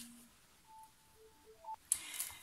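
A telephone sounds a string of short electronic beeps and dial tones at varying pitches, faint and indoors, followed by a sudden clatter as the call interrupts.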